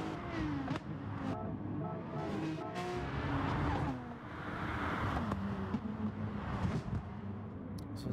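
Race cars in the driving game GT Sport rev and roar steadily, engine pitch rising and falling as they accelerate, with no talking over them.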